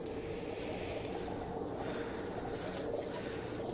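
John Sire Teddy pigeons cooing, a steady soft murmur of coos that runs unbroken through the whole stretch at moderate distance.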